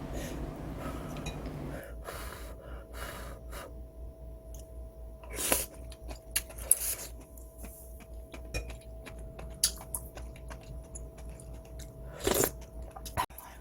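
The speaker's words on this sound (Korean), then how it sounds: "제가 한번 먹어볼게요" Someone eats homemade yukgaejang, a spicy Korean beef soup, with soft close-up bites, slurps and chewing, intermittent sharper crunches and breaths in a quiet room, after a brief stretch of talk.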